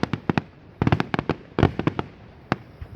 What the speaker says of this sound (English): I don't think that fireball was supposed to happen.